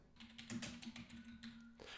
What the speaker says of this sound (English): You just start typing in the tags and hit enter, and that'll create a tag.